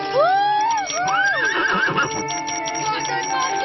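A horse whinnies loudly and close in a children's animated series, a long rising and falling neigh followed by another, with faint hoof clip-clops and background music.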